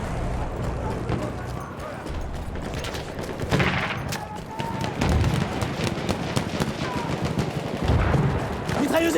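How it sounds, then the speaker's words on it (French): Dense battlefield gunfire, including bursts from an enemy machine gun, rattles continuously across a First World War trench raid in Battlefield 1, with distant shots and explosions layered throughout and voices calling out over the din. "Mitrailleuse ennemie en vue!"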